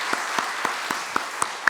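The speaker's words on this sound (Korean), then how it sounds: "5분이 앞에 앉아 계시는데 이분들에게도 한번 큰 격려의 박수로 축복하겠습니다" Congregation at a church service clapping to congratulate five people receiving baptism and confirmation, heard as a steady wash of applause with sharper individual claps standing out at a brisk, fairly regular rhythm, no voices.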